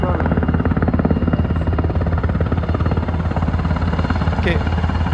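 A police helicopter comes down to land beside a charging stop, its steady rotor chop and engine roar loud and close throughout, with a pulsing low beat and voices faintly underneath.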